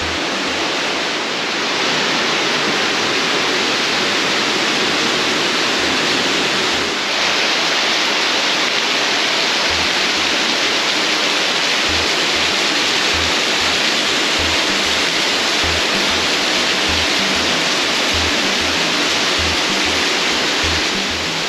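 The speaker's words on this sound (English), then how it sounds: "the water flows down the calcite all the way down into there" Water flows down calcite formations into a deep shaft in Ingleborough Cave, a loud, unbroken roar like a waterfall that holds steady throughout, with faint low thumps in the background.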